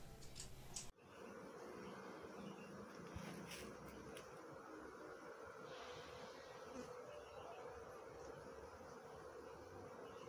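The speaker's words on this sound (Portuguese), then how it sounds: "quero mostrar para você o um videozinho pequenininho da chegada do enxame que chegou ali na minha casa essa semana" A bee swarm arriving at a house, heard as a steady, dense buzzing drone that fills the whole stretch, fairly close and continuous, with no talk over it.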